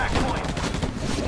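Dense, continuous machine gun fire and explosions in the video game Battle for Los Angeles, loud and chaotic with no clear gaps.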